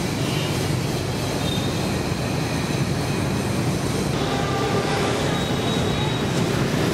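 A two-level underground metro train running, a steady dense rumble and rushing roar with faint wheel squeals threading through, loud and continuous throughout.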